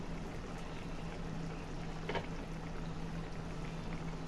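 Coconut milk broth for Bicol Express simmers and bubbles steadily in a pot, a soft continuous seething with a low hum underneath and one brief brighter splash midway.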